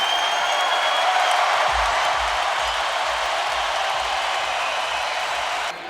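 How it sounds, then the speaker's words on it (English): A boxing arena crowd at a Terence Crawford fight in Omaha, Nebraska, roars in a loud, sustained wash of cheering after the final bell, with a few low thumps underneath. "that bell rings, we'll let you listen to the crowd."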